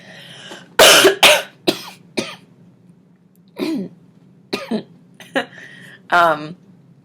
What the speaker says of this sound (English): I just wish I wasn't coughing so much in the video